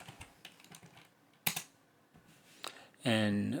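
Scattered keystrokes on a computer keyboard tap out in a few short bursts at close range, then a voice begins speaking right at the end.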